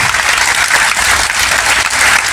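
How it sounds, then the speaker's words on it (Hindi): A school audience clapping for the teachers, loud, close, continuous applause with a slight swell toward the end. "उनके लिए भी एक बार ताली बजा दो भाई"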